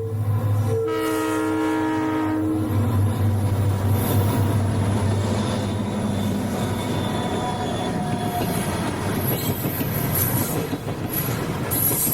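A Toledo, Peoria and Western local train sounds its horn several times as it rolls past a junction station nearby in 1993, wheels clattering and squealing steadily along the track.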